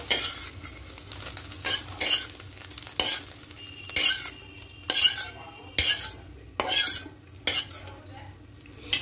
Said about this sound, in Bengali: এবার ডিমটা দিয়ে একটু ভুজিয়া করে নেব।